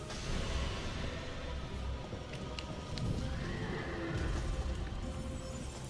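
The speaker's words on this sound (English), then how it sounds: "Alright, horse." A horse in the video game Dark Souls II neighs and whinnies over a busy background, with hoof clip-clops and brief swishes mixed in; no talk.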